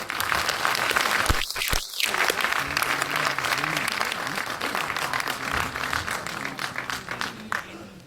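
A motivational-speaker event's audience claps hard to welcome Deepak Bajaj, a thick, continuous roar of many hands with voices and a brief dip early on, holding strong throughout.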